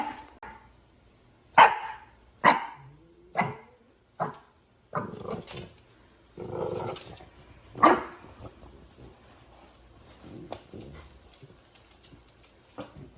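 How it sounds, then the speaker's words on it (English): A dog barks repeatedly nearby, sharp loud barks in an uneven series, followed by softer yips and a few quieter sounds. "he's barking right now"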